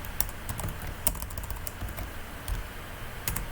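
Rapid, close keyboard typing on a computer during a League of Legends drafting session, with steady clatter punctuated by a few louder key hits over a faint room hum.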